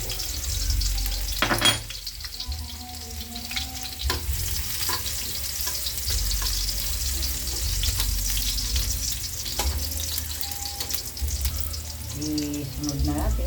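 Garlic sizzles steadily in hot oil for bawang in a Filipino tutsung bangus dish, a continuous crackling fry with occasional stirring clatter, close and moderately loud with no talk over it.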